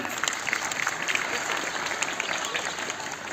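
An audience at a school Republic Day celebration claps steadily in dense applause that is fairly close and sustained throughout. A few voices are mixed into the crowd noise.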